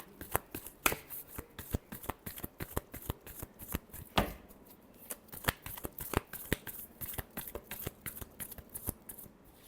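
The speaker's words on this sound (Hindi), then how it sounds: "Last shuffle." Tarot cards are being shuffled for a weekly Taurus horoscope reading, a steady run of sharp, close riffling snaps repeating throughout with no voices.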